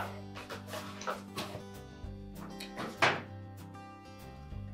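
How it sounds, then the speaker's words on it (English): A plastic detergent dispenser drawer on a Whirlpool washer snaps into place with several short, close thunks and clicks, one sharper knock near the end, over quiet background music. "pivot it downward until the three latches on the bottom engage"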